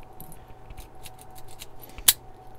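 A key slides into a Kingman 63mm padlock with one sharp metallic click, the loudest moment of the clip, against a soft backdrop of faint small clicks and rustling.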